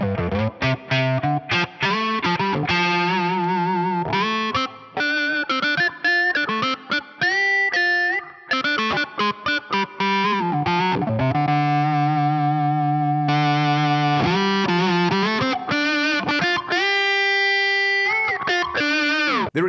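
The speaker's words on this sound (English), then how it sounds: "You kind of get this wacky Octavia style sound out of it. This works really, really nicely with a fuzz again." Electric guitar runs through a ring modulator block with fuzz for a wacky Octavia-style tone, playing a continuous distorted, buzzy melodic line with bending, warbling pitches and clipped gaps for about twenty seconds, loud and alone.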